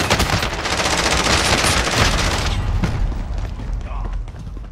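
Heavy gunfire in Warzone, dense bursts of shots and booms filling the first few seconds under a talking voice, then thinning out.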